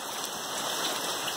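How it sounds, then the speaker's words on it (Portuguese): Heavy rain at a house in Ubatuba pours down as a dense, even hiss, steady and close for a brief stretch. "Que chuva é essa?"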